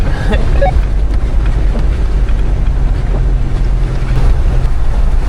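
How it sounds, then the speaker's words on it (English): A truck rumbles slowly down a rocky creek bed during a 24-hour Appalachian trail rally, engine drone and splashing water churning steadily under wind buffeting, with no talk. "So we're like almost 12 hours in, and we're just driving down a creek bed"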